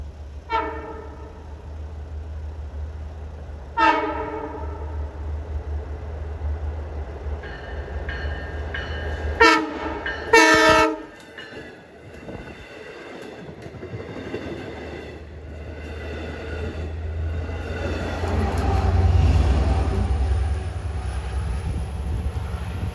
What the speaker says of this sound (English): Approaching west at 420 is train 657, Port Jeff to Jamaica.